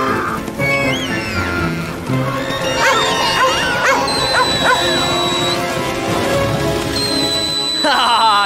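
A cartoon dog barks and yips amid a loud music score, as a panicked flock of sheep stampedes past a judge's trailer into a crowd at a show; the sharp yelps come in quick bursts above the continuous orchestral backing.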